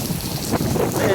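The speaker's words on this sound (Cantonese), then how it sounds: "俾你聽下啲風聲" Strong wind buffeting the microphone during a heavy storm with rain, a loud continuous rumbling roar with gusty swells over the whole short stretch.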